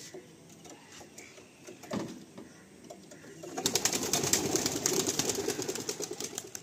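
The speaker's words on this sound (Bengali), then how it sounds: "আসুন পায়রাগুলো ছেড়ে রিলিজ করে দেওয়া হচ্ছে" Racing pigeons of the Andhra breed are released from a loft. Soft wing flutters come first, then a sudden loud burst of many wings flapping together that continues to the end.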